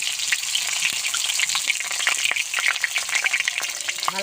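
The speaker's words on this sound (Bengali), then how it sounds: "পটলগুলো একটু ভেজে নেব।" Pointed gourd (potol) fries in a pan with salt and turmeric, giving a continuous close sizzle. Sharp crackles and pops break through it, with a few louder spatters near the end.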